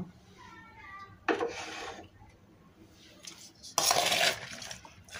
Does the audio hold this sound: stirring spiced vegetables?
yes